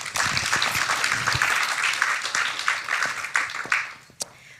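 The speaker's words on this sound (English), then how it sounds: "Round of applause for these two," Dense applause from an audience at an honours symposium, a steady wash of many hands clapping close by for a few seconds before thinning out to a few last claps.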